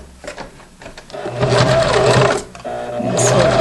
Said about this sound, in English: I'm going to sew it right straight down a 1/4 inch, like that